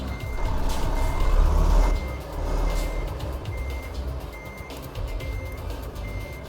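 A truck reversing while parking in Euro Truck Simulator 2, its backup alarm beeping in an even, repeated rhythm over a low engine rumble, with a heavier surge of engine noise early on.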